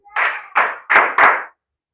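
Church congregation clapping in praise during a service, four loud, evenly spaced bursts of many hands together, each a dense crackling smack, then sudden silence.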